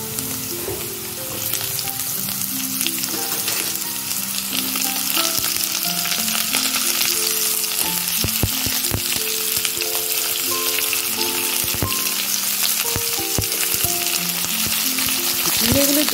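Potatoes and ridge gourd fry together in a pan, a loud continuous sizzle with crackling spatters and occasional stirring scrapes, steady throughout with no talk.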